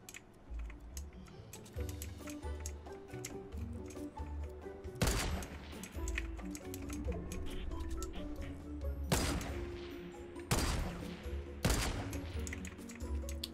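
Gunfire in the video game Fortnite, a mix of rapid clicking shots and several heavier bursts of weapon fire over a busy game soundscape, mid-distance and fairly quiet overall, with no voices.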